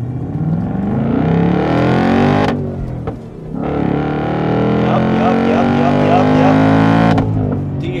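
A Ford Mustang GT Performance Pack V8 revs loudly up close, its roar rising and holding, briefly dropping off, then surging again in a second long, sustained pull.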